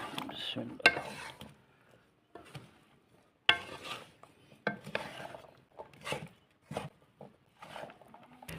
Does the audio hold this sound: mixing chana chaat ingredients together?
yes